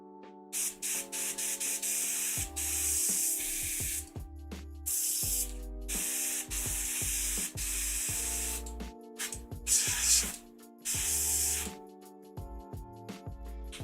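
Primer sprayed onto an Avatar of Khaine miniature: repeated short bursts of close, hissing spray, stopping and starting, over a steady mechanical hum.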